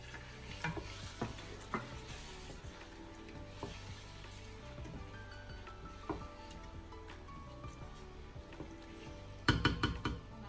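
Chickpeas frying together in a pot for Tunisian fish couscous, a soft continuous sizzle with scattered stirring knocks and a louder clatter of utensil on pot near the end.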